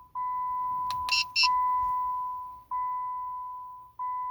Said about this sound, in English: wait for a few seconds until you hear the beeping sound indicating programming is successful